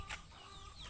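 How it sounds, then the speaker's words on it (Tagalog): Farm chickens cluck softly, a few faint short calls over quiet background noise in a brief moment. "Ayan na yung mga manok namin"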